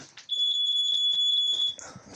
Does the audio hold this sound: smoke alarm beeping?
yes